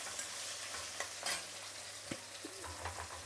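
Curry leaves and small shallots fry in hot oil with a steady sizzle, broken by a few scraping stirs and light clinks of a spoon against the pan, with no voices.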